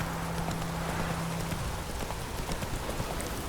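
Roach the horse's hoofbeats in the Witcher 3 video game, a steady clip-clop gallop running throughout amid rain-like ambient noise and a low hum.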